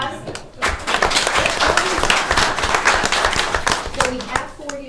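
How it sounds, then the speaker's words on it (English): A room at a Board of Commissioners regular meeting breaks into loud, close applause that starts abruptly and holds for several seconds, with voices faintly under it. "Well, give them a round of applause."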